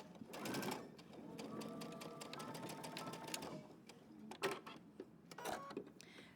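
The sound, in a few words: sewing machine back stitching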